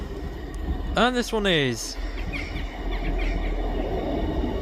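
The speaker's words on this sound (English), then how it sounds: "Arriving in now is the 1340 ScotRail service from Edinburgh Waverley to Perth." A ScotRail passenger service from Edinburgh Waverley to Perth pulls into Ladybank station. A low rumble runs throughout, with a short, wavering high squeal near the start, while a nearby voice speaks briefly.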